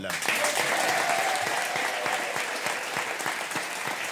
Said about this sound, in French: je vous demande d'applaudir Valérie et Paul